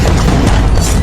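A huge city-leveling explosion in news footage: a loud, dense, continuous roaring rumble filling the whole clip, heavy in the low end with no voices over it.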